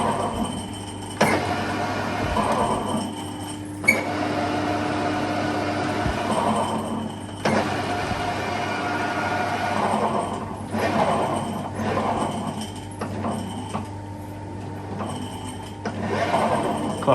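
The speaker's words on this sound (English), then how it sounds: "Noise is about the same. The motor's a bit louder, actually" A Harrison metal lathe running on its replacement motor, a steady mechanical whir and hum with gear rattle and a few knocks and clunks, close and fairly loud throughout.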